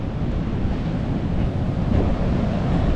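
Storm surf pounds the beach at Jeffreys Bay, a continuous loud roar of breaking swell mixed with wind buffeting the microphone, steady throughout with no pauses.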